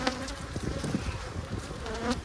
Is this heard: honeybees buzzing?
yes